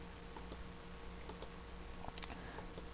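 A computer mouse clicks a few times, faint and close, with one sharper double click near the end during Illustrator editing work, over low background hiss.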